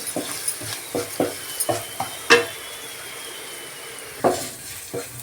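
Pongal ingredients frying in oil in a pan, a faint sizzle beneath repeated clinks and scrapes of a spoon stirring against metal, with a couple of sharper knocks.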